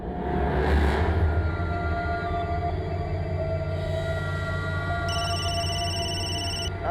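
A telephone rings with a bright electronic trill near the end, over a busy background hum and murmur of a party scene. Moderately loud against the steady ambient noise.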